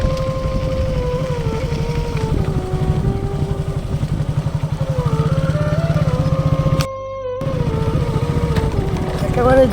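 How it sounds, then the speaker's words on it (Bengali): A motorcycle ridden along a road toward a forest near Medinipur, its engine droning loud and close with rising and falling pitch, briefly cutting out near the end before resuming. "সুমন বাইক চালাচ্ছে"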